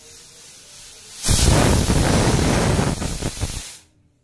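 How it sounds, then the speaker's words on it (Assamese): A pressure cooker holding boiling pork lets out a loud rushing hiss of steam through its whistle. The blast starts abruptly, holds for a couple of seconds with some fluttering, then cuts off. "এয়া গাহৰিখিনি মোৰ কুকাৰত দিছিলোঁ যে এইখিনি হুইচেল দিছে।"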